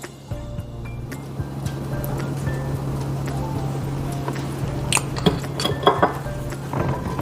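Homemade pudding is stirred in a pot, a low simmering hum under soft scrapes and a few light clinks of the spoon against the metal, growing a little busier toward the end.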